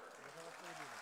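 A crowd claps at a Lok Sabha election rally in Basirhat, the applause faint and steady beneath a voice speaking over it.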